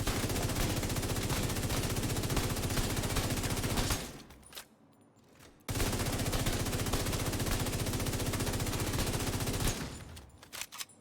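A FAMAS assault rifle firing in The Division, sustained full-auto bursts that stop abruptly for a short pause, then resume and cut off again near the end.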